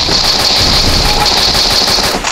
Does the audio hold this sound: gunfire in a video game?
yes